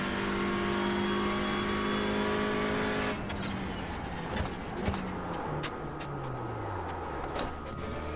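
A race car engine in a racing video game holds a steady high-pitched drone at full throttle, then lifts off and the pitch falls away, with crackles and pops from the engine on the overrun.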